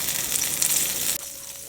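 Butter sizzling in a hot pan while cooking roasted garlic mushroom pasta, a steady close hiss with crackle that drops in level partway through.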